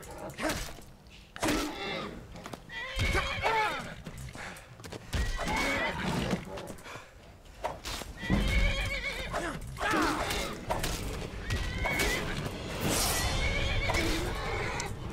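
Horses in the Skyrim video game neigh and whinny loudly several times, with clip-clopping hooves and other game sounds between the calls.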